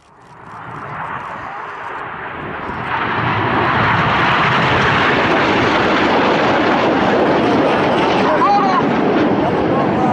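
Red Arrows display jets roar overhead at the Scampton airshow, a broad, loud rushing jet noise that builds over the first few seconds and then holds steady and powerful.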